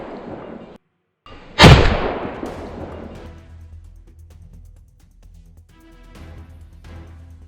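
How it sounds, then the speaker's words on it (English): A sharp, loud burst of gunfire during a winter wild boar hunt, ringing out after a brief silence and decaying into a long outdoor echo, with faint rustling afterward. "I unleashed a burst of fire at the two largest ones"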